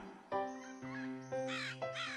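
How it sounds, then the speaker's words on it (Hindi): Crow cawing in a cartoon scene near its nest, several loud harsh caws in sequence, close and clear with no talk. "कुछ घंटों बाद कौवा अपने घोंसले के पास लौटा।"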